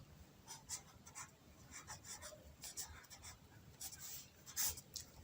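A pen scratching across paper in short bursts of strokes, fairly faint, with someone speaking over the writing.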